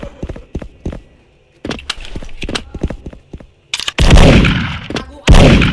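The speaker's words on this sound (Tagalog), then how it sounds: "hindi mo kaya ang loopy machine gun na to!" Rapid bursts of machine-gun fire from a video game, choppy short volleys early on, then two loud sustained roaring blasts near the end, close and dominant.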